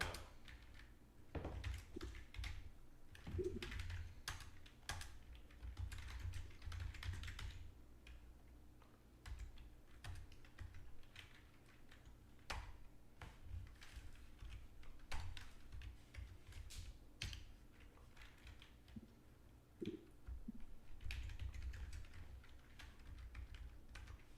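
Quiet, irregular tapping on a computer keyboard in a writers' room, bursts of keystrokes and pauses spread over the whole stretch with low room noise and no clear talk.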